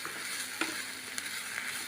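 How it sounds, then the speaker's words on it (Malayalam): A spiced mixture sautés in a pan with a soft, continuous sizzle and occasional faint stirring scrapes, quiet and steady with no voices. "ഇതെല്ലാം കൂടെ നല്ലപോലെ നമുക്കൊന്ന് വഴറ്റി വരാം"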